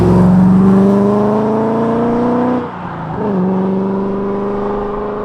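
BMW Z8 fitted with Supersprint headers and a full exhaust, its engine shared with the E39 M5, revs loudly and steadily, rising in pitch, dips briefly when the throttle lifts, then drones on at a strong, even level.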